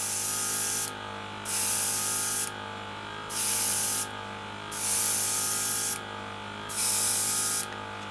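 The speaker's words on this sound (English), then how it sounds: "it's about opening your airbrush right up." Airbrush spraying paint onto a Bye-Lo Baby doll, a steady hiss in about five bursts separated by short pauses, close and fairly quiet with no talking.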